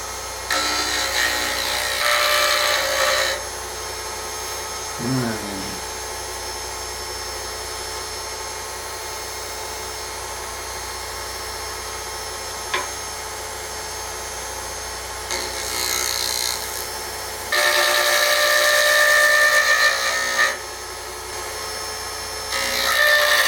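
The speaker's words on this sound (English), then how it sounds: "I'm going to use my Easy Wood carbide cutter." An Easy Wood carbide cutter shaves acrylic spinning on a lathe: a steady, close scraping hiss with a louder cutting burst early on and a stronger stretch near the end, with no talking.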